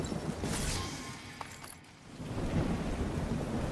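Steady rain hiss with a low thunder rumble in a video game, continuous and fairly loud, dipping briefly midway before swelling again.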